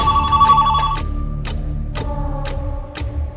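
Telephone bell rings in repeated bursts about every half second, a bright electronic trill that is fairly loud and close over a low background hum, with no talking.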